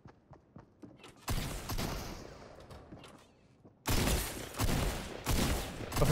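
Shotgun shots in the video game Fortnite: two loud, close blasts, each followed by a rough, noisy tail, with quiet faint tapping between them.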